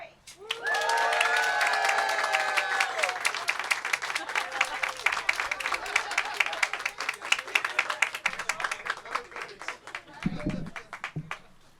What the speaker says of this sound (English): Now you're going to cut and everybody cheer on 3